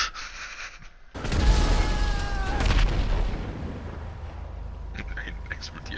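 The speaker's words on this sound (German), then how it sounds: "Warum explodiert da alles?" Explosions in the Grand Theft Auto Online video game: a sudden loud burst followed by rumbling blasts and sizzling debris, with game sounds continuing as it fades.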